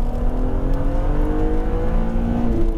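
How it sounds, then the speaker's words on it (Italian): A BMW Z3 M Coupé engine revs steadily during a road test drive, a loud, continuous close-up drone whose pitch slowly climbs and shifts, with no talking over it. "il modo in cui questo motore canta"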